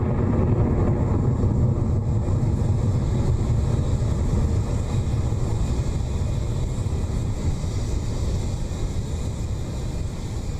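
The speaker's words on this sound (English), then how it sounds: "The beginning of the swarm has begun its ride to space with that clean Electron liftoff from LC-1" Rocket Lab Electron rocket climbing after liftoff from LC-1, a steady, dense roar with broad rumbling crackle holding constant and distant-sounding, no voices over it.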